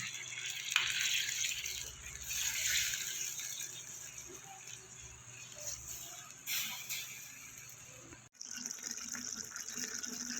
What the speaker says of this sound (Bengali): মশলা যে বাড়িতে মাখিয়েছি সেই জলটা আমি দিয়ে দেবো।